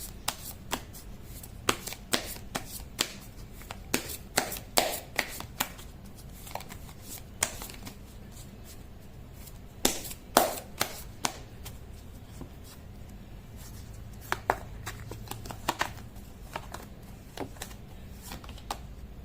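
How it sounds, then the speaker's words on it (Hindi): A reader shuffles a deck of tarot cards by hand, with repeated soft riffling and slapping bursts at an irregular pace over a quiet background and no talking. "मैं कर लेती हूँ कार्ड की शफलिंग"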